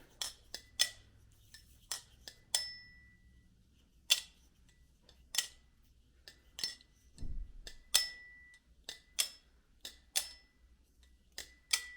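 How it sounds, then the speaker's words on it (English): Repeated sharp metallic clicks with a bright, bell-like ringing tone as an LDY Kite knife blade is flipped open, snapping at an uneven rhythm, close and clear in a quiet room. "It's a very bell-like ring, holy cow."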